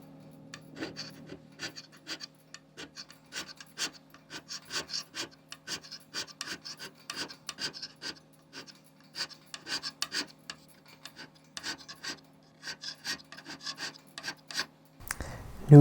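A hand scraper works the metal dovetail of a mini lathe cross slide in short, regular rasping strokes, a steady rhythm of close scratchy scrapes with brief pauses between them under a faint constant hum.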